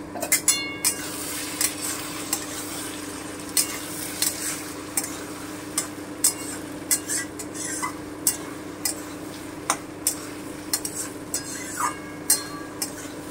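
A pan of chilli paneer sizzles steadily while utensils knock and clink against it in a loose, irregular rhythm, with a metallic lid clatter at the start and no speech.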